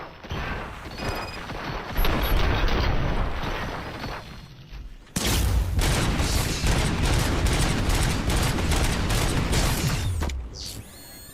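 Gunfire erupting in RoboCop Rogue City, a rapid, dense fusillade of shots with mechanical clatter, quieter at first, then a sharp loud burst of sustained firing that cuts off near the end.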